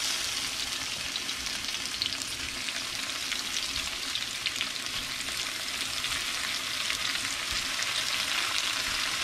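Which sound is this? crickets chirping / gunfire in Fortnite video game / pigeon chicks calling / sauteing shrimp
sauteing shrimp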